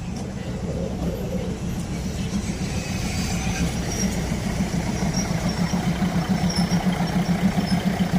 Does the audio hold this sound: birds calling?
no